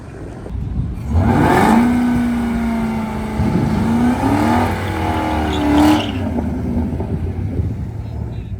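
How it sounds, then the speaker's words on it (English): A BMW M3 revs its engine hard during a burnout at a track, a loud rising roar with a sustained engine tone that falls away and swells again near the end. "A little weak on the burnout."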